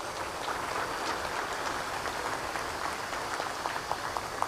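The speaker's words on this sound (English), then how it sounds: "A better round of applause, please." A crowd at a health science conference in Nairobi applauds in a steady, fairly soft wash of clapping heard from a little distance.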